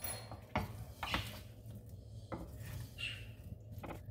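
Food being stirred in a roasting pan gives a few scattered scraping clinks of a utensil against metal, quiet and close, with soft rustling in between.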